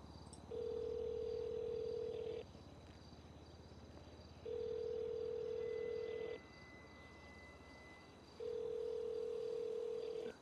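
Phone call dial tone in the GTA roleplay video game, three long steady beeps separated by pauses, clear and alone over a quiet background hum.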